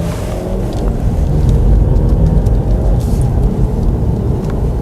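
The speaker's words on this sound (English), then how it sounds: "Really smooth acceleration, and we already know what this will do if we put our foot down on it." A Buick, GMC or Cadillac car on a test drive accelerates smoothly with a steady, loud engine and road drone from inside the cabin, with no talk.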